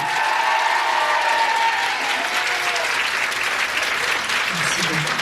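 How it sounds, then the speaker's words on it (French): An audience at a private concert claps loudly and continuously, a dense even wash of applause with faint voices mixed in. "On peut l'applaudir encore un peu plus fort."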